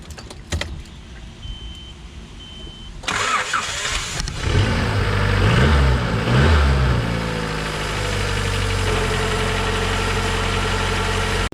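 Honda CRX engine cranking briefly, catching and settling into a rough, uneven idle that runs steadily and fairly loud close by, with no talking.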